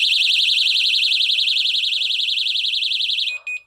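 A Technaxx TX-100 motion sensor alarm rated at 110 decibels wails with a loud, fast-warbling high-pitched siren, steady for several seconds before cutting off, followed by a short beep.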